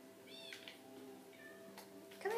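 Cats meow in a video game, several short tonal mewing calls rising and falling at a modest level over a steady hum of background game sound, with a louder call at the very end.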